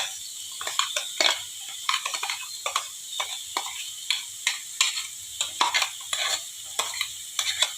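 A spoon stirs a spice mix into sizzling drumstick flower mash in a pan, with rapid, repeated clinks and scrapes over a steady frying hiss, close and continuous, no voices.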